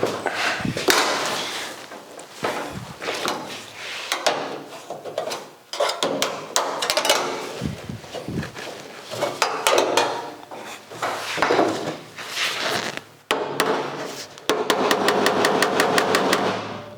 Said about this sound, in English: A little hammer like this doesn't have the oomph to pump it up.